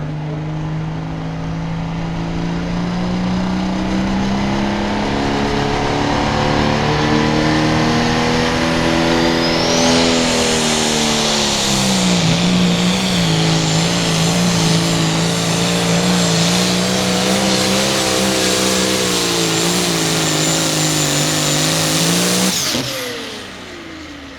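A pulling tractor in an 8,500 lb class at a tractor pull in Mound City, Missouri roars continuously for over twenty seconds, pitch rising and falling as it strains and revs, then cuts off abruptly near the end.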